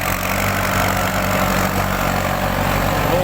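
A Kubota M8540 tractor engine runs with a steady, loud, low diesel drone, even and continuous without changes in speed, no voices present.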